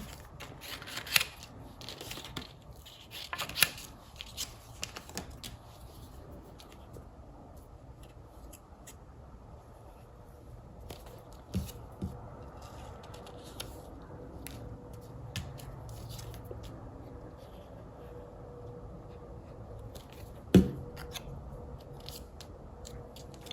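Scissors snip and trim a paper strip for a 12x12 Halloween scrapbook layout, with sporadic close crisp cuts and small rustles of paper across a quiet room, no talking.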